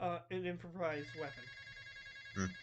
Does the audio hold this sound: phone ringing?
yes